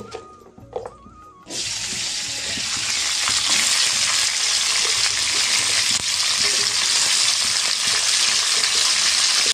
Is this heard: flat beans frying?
yes